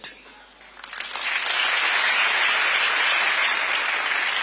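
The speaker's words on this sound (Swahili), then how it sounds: "Wapigie makofi." A crowd breaking into applause to thank people at a gathering, starting sparse and quickly building into loud, sustained clapping from many hands.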